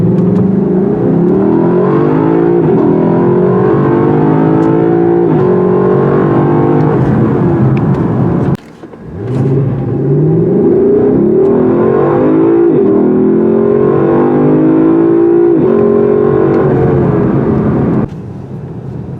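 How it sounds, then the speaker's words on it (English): Lexus LC500 V8 from 2019 revving and accelerating hard in extreme heat, a loud, sustained engine roar that rises in pitch, breaks off briefly at a gear change, then climbs again and eases near the end. "Took about a second for the engine to come alive, but once it does, wow."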